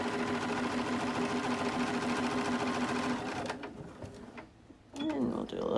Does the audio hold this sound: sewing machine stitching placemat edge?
yes